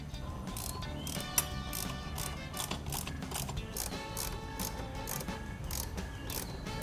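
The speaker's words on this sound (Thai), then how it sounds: "แล้วค่อยมาขัดแน่นด้วยตัวหกเหลี่ยมนะครับ" Hex key tightening bolts on a Honda ADV160 motorcycle accessory, a faint, quick series of repeated clicking ticks, close and steady, with no talk.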